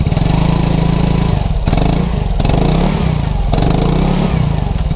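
A 2024 Sprint 150cc scooter engine revs close by with a deep, throaty exhaust burble, swelling and easing back in repeated bursts, loud and alone.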